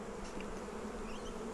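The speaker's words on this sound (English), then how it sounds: "the surefire way is to shake the bees off the frame" Honey bees buzz on a hive frame, a dense, steady close-up drone without pause.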